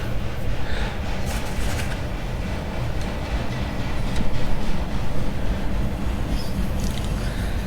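Union Pacific freight train passing close by, a loud continuous rumble and rattle of rolling wagons with clickety-clack on the rails, steady throughout with no voices.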